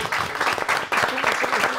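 A crowd applauds loudly and continuously, with cheering voices mixed into the dense clapping.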